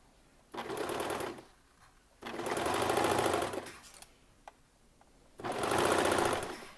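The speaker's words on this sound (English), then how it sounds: "So if you're serging, you don't want your knife to cut into that." A serger sewing machine stitches fabric in three loud, fast-rattling bursts of a few seconds each, separated by short quiet pauses with faint handling noise.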